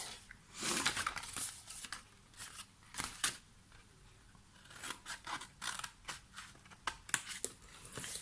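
Scissors snipping through paper for a Stampin' Up! gift box, a series of quick, crisp cuts with rustling paper handling in between, close and fairly quiet.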